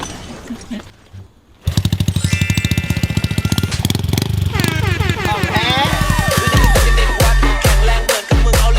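A Honda Wave 110i motorcycle is kick-started, then its small single-cylinder engine runs at a close, loud, rapid putter and revs up and down, with people talking over it.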